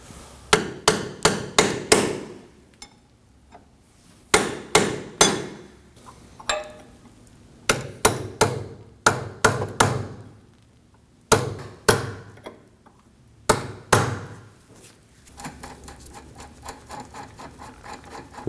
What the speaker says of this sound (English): Now I'm going to use a punch on the washer on the inner portion of the tie rod.